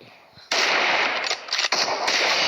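A video game sniper rifle fires without the scope: a loud, sudden burst of gunfire that stays harsh and dense for about two seconds with a couple of brief dips.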